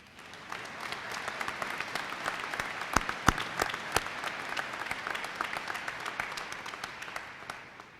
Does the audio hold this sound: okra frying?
no